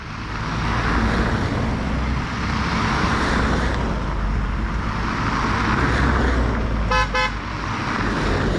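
A brief double car horn toot sounds as a greeting during a women's cycling stage race, rising over steady loud wind and road noise late in the clip.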